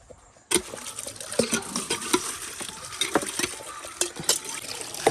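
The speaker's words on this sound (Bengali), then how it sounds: "আমি জল টিপে দেবো, তুই ধুয়ে নিবি।" Water gushes from a hand pump in uneven, splashy bursts as a metal pot is rinsed under it, close and fairly loud, starting abruptly after a brief quiet moment.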